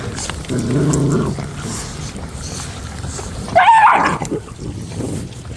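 An adult dog growls at other dogs, including new puppies: a close, low, rumbling growl lasting about a second, then a sharp yelping snarl a few seconds later over background noise.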